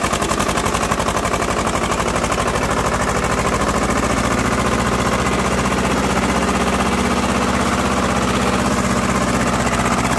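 A small Swaraj 724 tractor hauling an overloaded sugarcane trolley chugs hard and steadily with a rapid, rough thudding rhythm, loud and close throughout.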